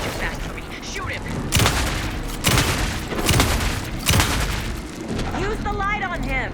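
Gunfire in the video game Alan Wake 2, several loud booming shots spaced a second or so apart, mixed with game voices and effects.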